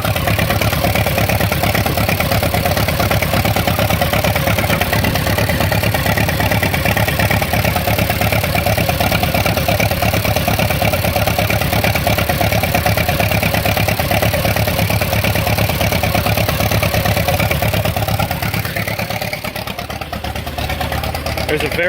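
1947 Farmall M tractor engine with a suspected dropped valve seat, idling close and loud in a steady mid-pitched chug that drops away near the end.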